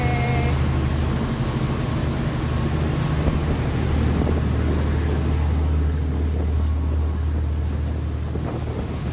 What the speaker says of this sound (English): Our boat for today.